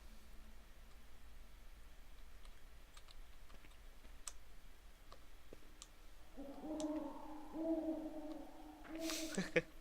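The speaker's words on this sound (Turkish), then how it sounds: "Baykuş." An owl hoots in two tonal calls near the end, fairly faint, over quiet background with scattered clicks like keyboard typing.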